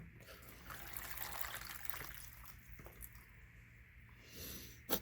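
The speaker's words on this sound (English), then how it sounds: "you add water in there and then it'll soak up through" Water is poured into microgreen growing trays, trickling and splashing softly in a quiet, close, continuous flow with small squishy gurgles, ending in a brief louder splash.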